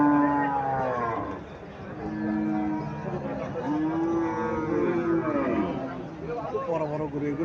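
Large cattle at the Chodnimura cow market in Comilla give long, drawn-out moos one after another, close and loud, while people talk in the background.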